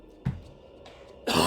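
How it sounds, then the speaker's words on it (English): A man coughs and clears his throat in short bursts, a sharp single cough, a pause, then a rougher, louder cough at the end, close to the microphone. "This weird cough."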